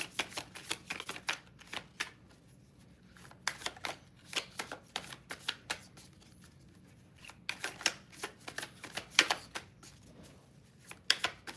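Tarot cards being shuffled for a live collective reading, a run of quick riffling bursts in clusters separated by short pauses, close and fairly quiet with no talking.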